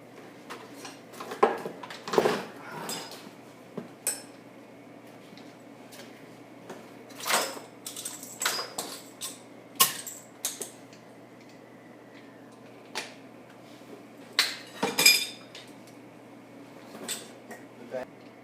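A vehicle track bar bolt is tightened with a 24mm socket and ratchet, giving irregular ratcheting clicks and metallic knocks spread through the stretch, some louder bursts among quieter ticks.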